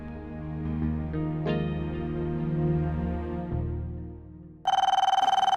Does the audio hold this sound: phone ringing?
yes